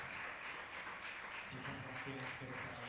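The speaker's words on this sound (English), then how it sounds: "Big round of applause for both of you for being here and for premiering the film in San Sebastian" Journalists applauding at the close of a San Sebastian film festival press conference for the premiere of Another Round (Druk), an even wash of clapping from a room of people with a voice speaking over it.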